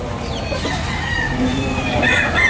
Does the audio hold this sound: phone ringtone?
no